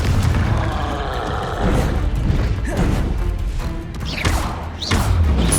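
Spell blasts in Hogwarts Legacy combat, with the Confringo fire curse among them: repeated booming thuds and crashes over a dense, continuous battle din, several loud hits spaced across the stretch and no talking.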